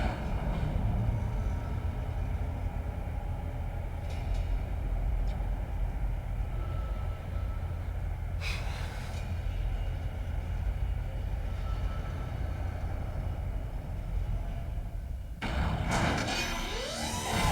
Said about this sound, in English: Here we are, voila, the tram station.